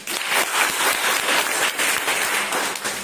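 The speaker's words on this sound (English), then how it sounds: "claps." Students clapping in a classroom, a dense burst of applause at steady volume that lasts a few seconds before tapering off slightly, with no talk over it.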